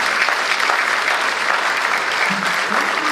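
An audience at a public safety event with New Mexico Governor Michelle Lujan Grisham in Espanola, New Mexico, applauds steadily. The clapping is dense, even and sustained throughout, with no speech over it.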